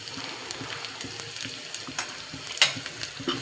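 Cumin and red chili stirred in hot oil for a tempering, a steady close sizzle broken by a few spoon scrapes and one sharper clack near the end, with no talking.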